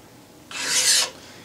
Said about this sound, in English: Hold your work in the vise in the protective caps, and the file can be used like this.